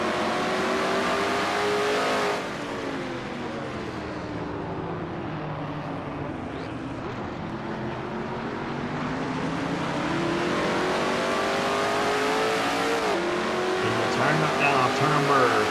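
A race car in a Castrol GTX Cup Series event at Riverside accelerates out of a turn onto a long straightaway, the engine note climbing steadily and loudly through the gears while a commentator talks over it.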